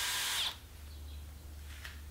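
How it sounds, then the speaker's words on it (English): A power drill bores holes in a 1/4 inch MDF panel during a small tube amp chassis build. One loud, close whining burst lasts about half a second and then cuts off, leaving only a low steady hum. "we're going to drill the holes in exactly the same way."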